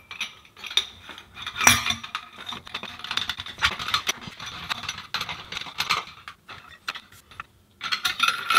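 A ratchet wrench on an extender tightens the barrel nut under a rifle handguard on an M&P 15-22. It gives close, rapid metallic clicking and clanking in uneven bursts with short pauses, and nobody talks.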